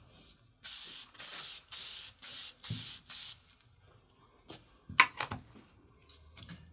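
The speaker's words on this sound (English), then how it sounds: "I'll take and put another coat of this Masters Quick Shine on" Masters Quick Shine sprayed onto carved leather in six short, loud bursts of aerosol hiss, evenly spaced, followed by quieter scattered handling knocks and taps.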